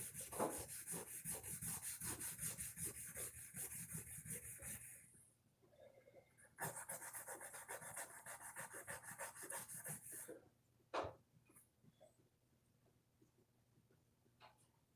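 Fine 400-grit sandpaper rubbing and sanding, probably on an axe, in steady back-and-forth strokes that run close and fairly loud, pause briefly, resume, then taper into scattered softer scrapes.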